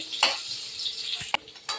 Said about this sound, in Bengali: এবার আলুগুলো একটু নুন দিয়ে ভাজতে বসিয়েছি